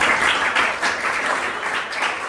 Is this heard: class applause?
yes